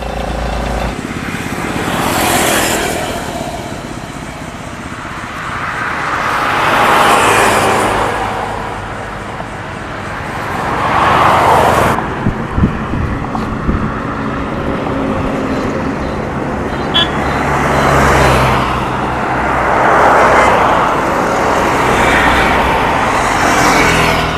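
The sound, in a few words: vehicles passing on a roadside while hitchhiking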